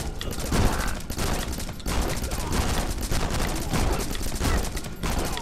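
Rapid, steady gunfire from the platform shooter Rocketbirds: Hardboiled Chicken, dense bursts running nearly nonstop with brief gaps, loud and close throughout.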